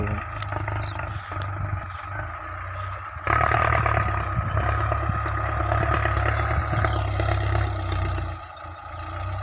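A Ford 6600 tractor with a newly replaced clutch plate runs with a steady low diesel drone. The engine gets louder and rougher partway through as it works harder ploughing a field, then settles down near the end.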